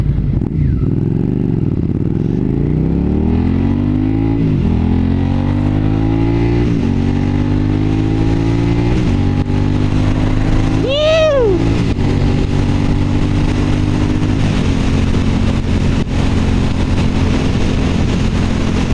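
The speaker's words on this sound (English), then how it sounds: "Love the exhaust note on this bike." Motorcycle exhaust burbles steadily while riding along the Pacific Coast Highway, the engine note rising and falling through gear changes with a brief higher whine mid-ride, heard close and continuous under wind.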